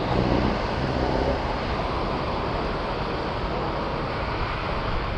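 Strong wind from Typhoon Carina roars steadily across the microphone, a dense rushing noise that barely changes, with no voices.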